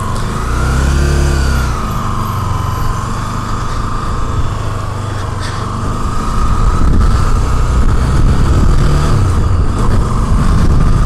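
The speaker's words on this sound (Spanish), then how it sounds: "Suena como moto grande," A KTM Duke 200 motorcycle engine runs loudly and close, its revs rising and falling in pitch as it accelerates, a continuous rough mechanical roar.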